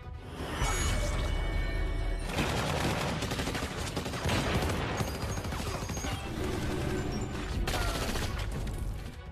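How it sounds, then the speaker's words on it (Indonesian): A prison gunfight from The Walking Dead season 4 erupts in dense, loud bursts of gunfire with crashes and whooshes, sustained throughout without a break. "Ia kemudian memenggal kepala Hershel dan baku tembak pun tak dapat dihindari."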